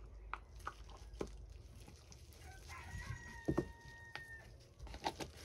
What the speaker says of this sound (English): please excuse those chickens